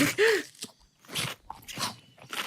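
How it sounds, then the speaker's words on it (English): Crunchy biting from a reaction stream, several short crisp crunch bursts spaced unevenly across a couple of seconds, close and fairly loud with little else around them. "Stop giving me ASMR of biting, please."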